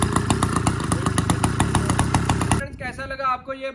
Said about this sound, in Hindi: मफर निकाल दें तो ये स्टार्ट हो जाए।